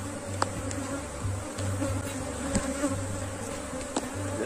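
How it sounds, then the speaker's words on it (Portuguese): A honey bee swarm hums inside an opened hive, a dense continuous buzz close by, with individual bees droning past and a few sharp ticks over it. "Isso aqui é a principal parte do enxame"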